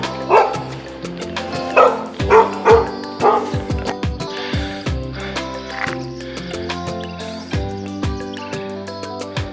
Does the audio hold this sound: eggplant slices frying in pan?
no